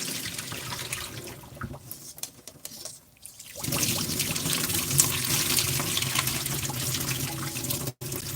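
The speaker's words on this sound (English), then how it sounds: "So all I'm doing is just gonna pour it into the sifter" Liquid poured from a cheese-making batch through a sifter, a steady close splashing and trickling stream that pauses briefly before resuming strongly.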